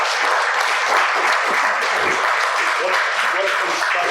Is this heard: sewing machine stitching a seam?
no